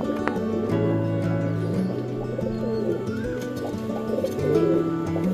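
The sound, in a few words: pigeons cooing, Mayurpankhi and Giribaz pigeons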